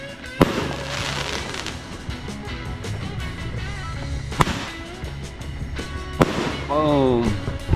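Fireworks during Thai New Year celebrations at home: a few sharp nearby bangs over a continuous crackling rumble, with people talking over it.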